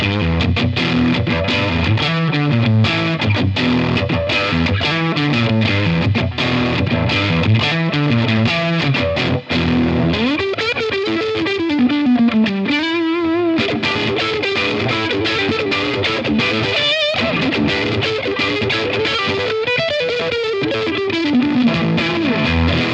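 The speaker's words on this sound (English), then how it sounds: "let's see how it sounds with a neck P90 with the same settings" Electric guitar on its neck P90 pickup, played through a Cooltone Range Booster silicon fuzz pedal: a loud, continuous run of distorted, buzzy chords and sustained, bending lead notes, heard alone.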